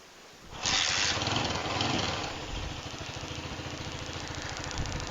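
A motorcycle engine fitted with a replacement CDI fires up after a quiet moment and settles into a steady, pulsing idle, fairly loud at first and then evening out close by.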